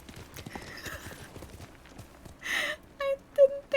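A samurai horse's hooves clip-clop in the Ghost of Tsushima video game, a run of quick hoof taps joined by brief whinny-like tonal bursts near the end, alongside talk.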